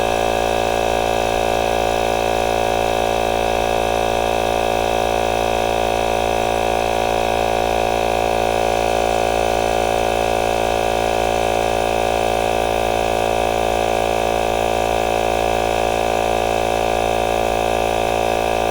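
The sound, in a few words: Veapoot portable tire inflator pump running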